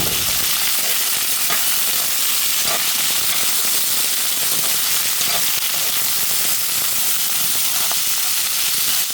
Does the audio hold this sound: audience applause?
no